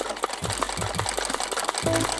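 A sewing machine stitching in quick rhythmic bursts, its needle thumping in a steady mechanical patter, close and fairly loud with no talking.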